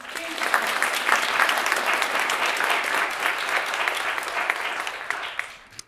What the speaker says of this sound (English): I'd really like to give Baltimore Center Stage a huge round of applause